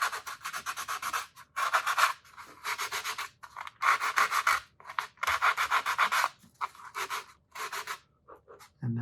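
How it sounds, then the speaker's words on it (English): Sandpaper is rubbed back and forth over a wooden part of a steel-string guitar in a workshop, about seven steady rasping strokes separated by brief pauses, close and clear, with no talking. "You could touch this off with a little bit of sandpaper"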